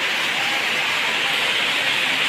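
Steady heavy rain pours down in a village, a dense, even hiss that stays loud and unbroken throughout with no voices.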